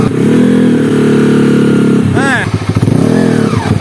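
Old Honda Sonic motorcycle engine idling and revving with a whining gear noise before repair, loud and close, with a brief blip of throttle and rising whine midway while someone talks over it.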